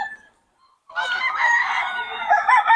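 A gamefowl stag rooster crows once, loud and close, in a long drawn-out call after a brief quiet moment, with a fainter cluck just before.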